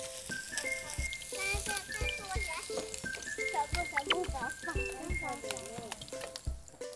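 Food, including tofu, grills and sizzles at close range while people chat and laugh over the crackle, with a short whistle-like tone in places.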